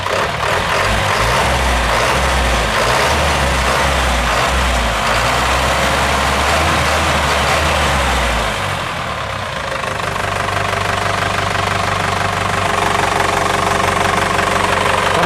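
An Isuzu NQR150 truck's diesel engine idles with a loud, knocking rumble, shifting to a smoother, higher running note partway through, close and continuous.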